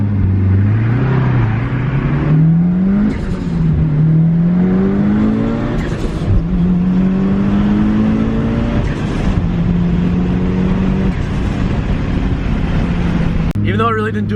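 A dyno-tuned Mitsubishi Evo 5 engine revs loudly from inside the car during a test pull, rising in pitch through several gear changes, with pops and crackles on deceleration.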